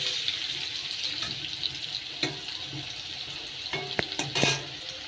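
Potatoes frying golden in a pan, a steady close sizzle with some stirring and scraping clatter.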